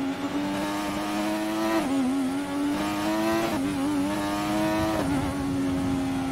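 A Formula 1 race car engine in F1 2020 revs high and steady, a bright whining drone that dips and climbs again with each gear change or throttle lift, several times in a row, loud and close.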